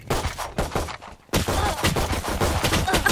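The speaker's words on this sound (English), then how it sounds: "Why are you shooting so fast?" Fast automatic gunfire in Valorant, loud rapid volleys in quick bursts with a short pause before a sustained stream of shots.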